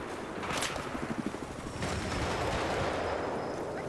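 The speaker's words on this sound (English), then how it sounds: "I got somebody shooting me in the back." Battlefield 4 multiplayer gunfire crackles in short rapid bursts, loud and fairly close, over dense battle noise and a continuous roar.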